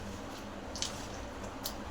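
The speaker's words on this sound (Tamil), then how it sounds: "கையை வச்சு இப்படி பிசைஞ்சுக்கோங்க" Chicken 65 marinade is squeezed and kneaded by hand without added water, making soft wet squelches and light sticky smacks, close and quiet, with no talk.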